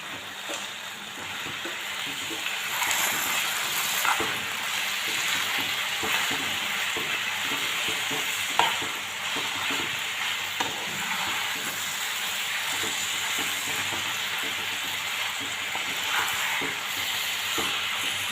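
Mango pieces frying in melted jaggery in a pan, a continuous close sizzle with intermittent scraping and clicking stirs, no talking.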